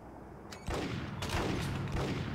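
Gunfire in Max Payne on PS2: a quick flurry of overlapping shots, loud and close, some ringing on after the bursts.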